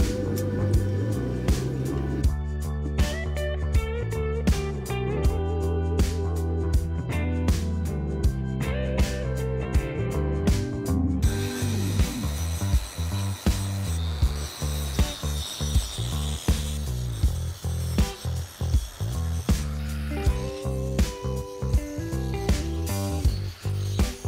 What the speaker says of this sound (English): That's a rough grind.